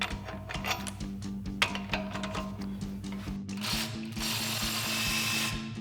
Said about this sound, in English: we can tighten the other end up. All right, using our 27mm socket.